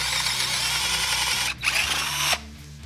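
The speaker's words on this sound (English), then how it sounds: "Drill a hole right there." A power drill bores a hole through a piece of scrap wood, a steady high whine running continuously, briefly dipping mid-way as the bit bites, then cutting off near the end.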